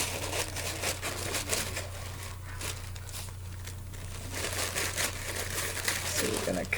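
Tissue paper is cut and crumpled by hand for a craft, making a steady soft crinkling and rustling over a constant low electrical hum, fairly faint and close.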